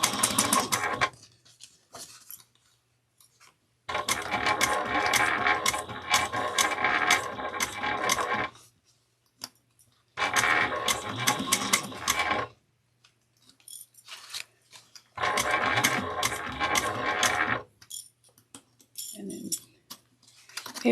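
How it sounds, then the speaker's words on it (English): A sewing machine stitches quilted fabric with back stitching, running in four loud rapid bursts of several seconds each, separated by quiet pauses with small handling clicks. "sew this together using a 3/8 of an inch."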